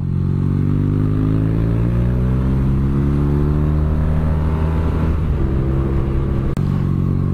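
A 2017 BMW R nineT motorcycle accelerates, its engine note climbing steadily in pitch under load, loud and close, dipping briefly around a gear change before pulling again.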